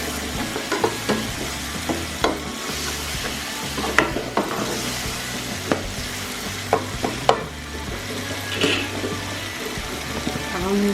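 Fish masala with dried fenugreek frying in a pan outdoors in a village kitchen, a steady sizzle broken by frequent sharp clinks and scrapes of a spoon stirring, with a low hum underneath.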